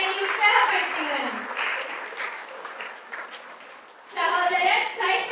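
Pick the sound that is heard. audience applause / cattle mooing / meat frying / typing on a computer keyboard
audience applause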